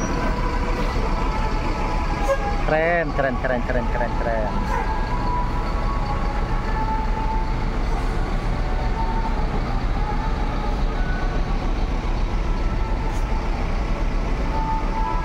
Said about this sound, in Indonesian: Diberangkatkan 1 unit lagi bus ANS Luxury Class dengan nickname Plong